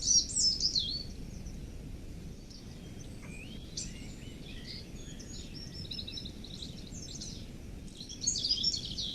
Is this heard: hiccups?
no